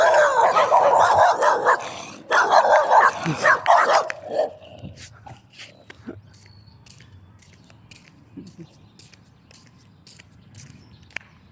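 Several dogs barking in loud, overlapping bursts that fade into occasional faint yips and distant barks, with some quiet voices.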